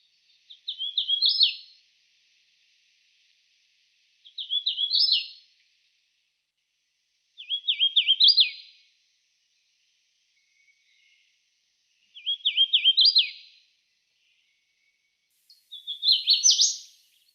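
A recorded deep-woods migratory warbler sings five short, buzzy, trilled phrases, evenly spaced a few seconds apart, clear and alone against silence.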